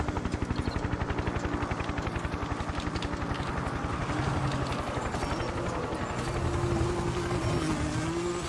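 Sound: helicopter in Need for Speed video game

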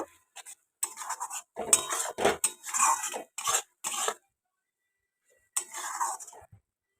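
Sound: stirring and sautéing spices with green chilli in a pan

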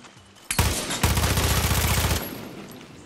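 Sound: gunfire in Far Cry 6 video game

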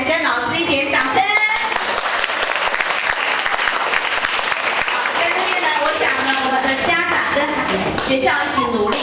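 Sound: applause for children and teachers

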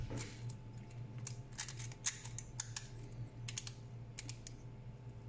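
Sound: 1Zpresso K-Plus coffee grinder clicking as it is locked

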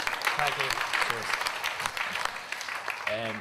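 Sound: audience applause

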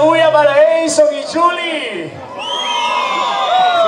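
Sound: wedding guests cheering for the couple

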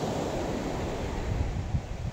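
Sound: strong waves on the water

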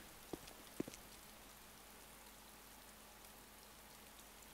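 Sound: rain in video game ArmA 2 DayZ

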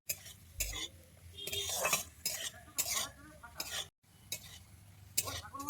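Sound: cashews and raisins frying in ghee on low heat

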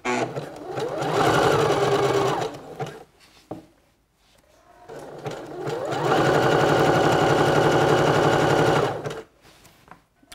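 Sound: sewing machine zigzag stitching elastic on swimsuit

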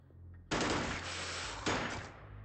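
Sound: gunfire in the video game Xenonauts

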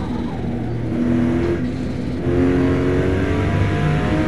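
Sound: car engine revving, losing traction in video game Forza Motosport

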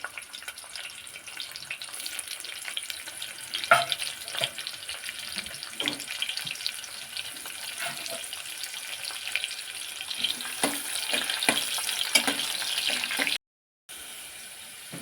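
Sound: onions frying in oil

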